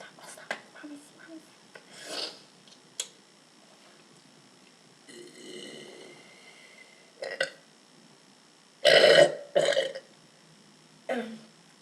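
A man burps several times at close range, with short rough belches spread across the stretch and two louder, longer ones near the end. He talks between the burps.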